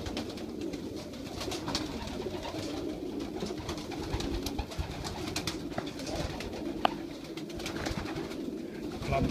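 Young pigeons in a loft cooing softly and continuously at a low, throaty pitch, with light rustling and faint background noise throughout.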